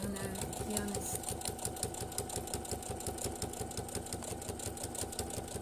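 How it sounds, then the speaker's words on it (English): Sewing machine top stitching a double zip pouch, running in a fast, even mechanical rattle throughout, steady and close. "So I'm top stitching."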